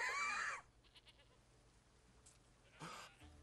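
A goat in Assassin's Creed Odyssey gives a loud, short bleat at the start, then a fainter second bleat follows after a quiet stretch, set against low game ambience.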